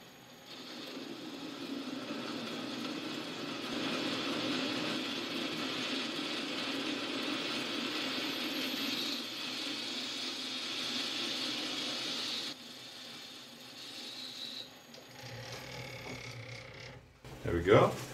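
Relief cuts machined into bored washers for grinding wheel adaptors produce a steady mechanical whir and grind that runs continuously, then eases and changes before a brief clatter at the end.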